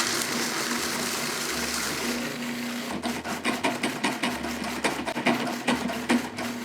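A food processor blitzes a tart crust mixture before butter is added, running as a loud continuous whir that turns into short rhythmic pulses partway through, with no talking.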